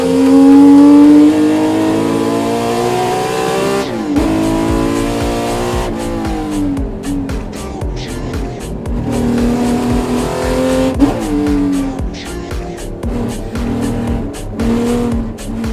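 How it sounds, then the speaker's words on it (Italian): A 1985 Ferrari 288 GTO with a 2.8 litre V8 revs loud and close in repeated climbing sweeps, with sharp drops at gear changes and a brief tire squeal. "Questa è una Ferrari 288 GTO del 1985."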